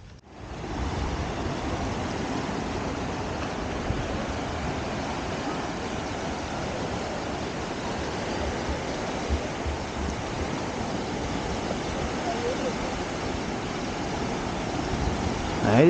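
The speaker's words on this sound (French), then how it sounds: "Ah, les vagues, hein." Wake waves from large passing boats wash against the shore of Lake Garda, a steady, close, continuous rush of water with no talk over it.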